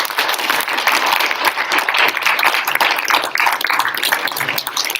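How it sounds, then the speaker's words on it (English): A senior celebration audience applauds a building trades group, lively crowd clapping with distinct individual claps standing out in a loud, sustained burst. "Let's give Building Trades a round of applause."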